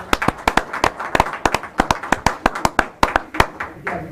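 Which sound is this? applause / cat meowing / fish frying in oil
applause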